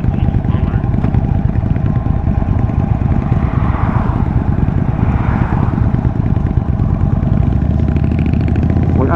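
A motorcycle engine runs steadily while being ridden at 50 km/h, a loud continuous drone with wind rush throughout and no clear breaks.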